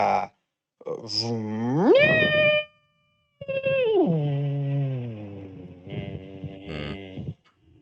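A voice imitates a car's loud squeal after starting, two long sliding, wavering cries separated by a short pause, each starting shrill and trailing off lower and quieter.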